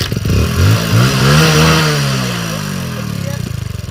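A worn, loose motorcycle engine cranks and catches, revving up loudly and close, then settling into a throbbing, sputtering idle that pulses unevenly toward the end.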